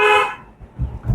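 A car horn sounds once in a short honk during a driving lesson, fairly loud and close, then fades into low road and cabin rumble.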